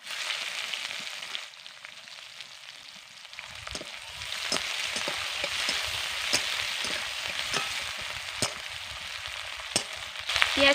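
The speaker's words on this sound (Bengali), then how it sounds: "পেঁয়াজকে আমি নরম করে ভেজে নেব" Chopped onions fry in hot oil in a pan as puti fish tel jhal is cooked, a steady close sizzle with occasional sharp stirring scrapes and ticks, no voices.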